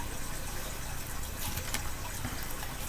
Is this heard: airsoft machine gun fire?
no